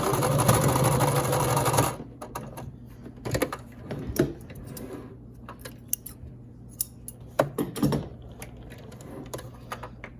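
A sewing machine runs steadily at the start while stitching over elastic on a homemade fabric mask, then stops, followed by scattered clicks, snips and handling noises.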